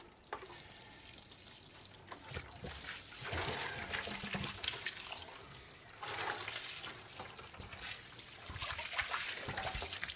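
Water poured from a can or hose onto a steaming compost hotbed in a garden with a mini greenhouse, a steady splashing trickle that swells and fades in several bursts, close by.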